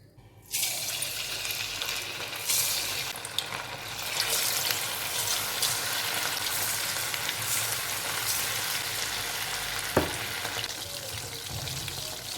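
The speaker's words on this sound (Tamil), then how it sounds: "1/2 மணி நேரம் சிக்கன் ஊறி இருக்குது, எண்ணெயில் ஃப்ரை பண்ணிக்கலாம்." Marinated honey chicken pieces dropped into hot oil, the frying bursting into a loud sizzle after a brief quiet start and then bubbling steadily, with occasional clinks and stirring.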